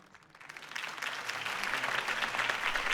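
Applause from a crowd in Batman: The Telltale Series swells up from quiet and builds into steady, dense clapping that keeps going.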